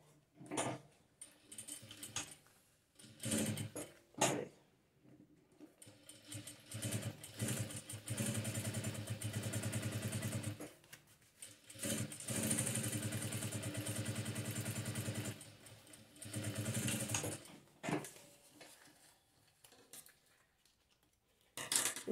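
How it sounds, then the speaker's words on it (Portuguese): A sewing machine topstitches the seam on a synthetic strap, running in bursts of rapid mechanical clatter separated by short pauses, close and fairly loud, with no talking. "Agora eu só vou rebater a costura do outro lado."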